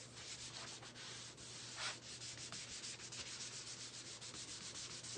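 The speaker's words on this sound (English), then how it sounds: "I'm just using wax all over the whole surface, and I'm buffing it in really well" Paste wax is buffed into a surface by hand, giving a soft continuous rubbing and scuffing of quick back-and-forth strokes, faint and close over a steady low hum, with no voices.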